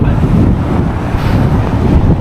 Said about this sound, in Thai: มันคือลมที่พัดหิมะปลิว